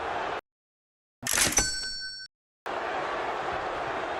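A boxing ring bell clangs once at a heavyweight fight in the Omni in Atlanta, a sharp bright strike with a ringing metallic tail that fades over about a second, between stretches of arena crowd noise.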